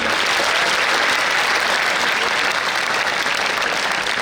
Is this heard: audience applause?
yes